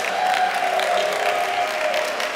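A Sunday service congregation claps for Andy France in a thick, continuous wash of applause, steady and fairly loud, with a faint tonal hum beneath.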